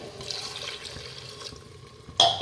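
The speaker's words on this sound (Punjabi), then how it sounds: "ਇਹਦੇ ਵਿੱਚ ਪਾਣੀ ਥੋੜਾ ਜਿਹਾ ਹੋਰ ਐਡ ਕਰਾਂਗੇ" Water poured into a pan of egg curry masala being cooked at home: a soft, quiet trickle that ends in a brief louder splash near the close.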